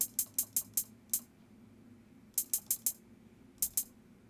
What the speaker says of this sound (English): Then you're going to want a hi-hat